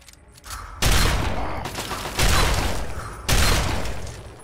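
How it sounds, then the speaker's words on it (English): Shotgun blasts in Fallout 3, three loud booming reports spaced about a second apart, each with a long rolling decay, heavy and close with nothing else over them. "Shotgun to the head, baby"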